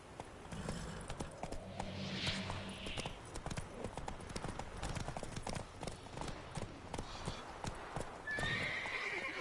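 Roach, the horse in The Witcher 3, walks with steady rhythmic clip-clopping hooves and lets out whinnying neighs, under ambient game sound and faint low voices.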